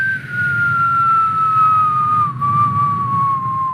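A person whistles an imitation of a rock dropping from a distance: one long, loud, close whistle that glides slowly and steadily downward in pitch, heard alone.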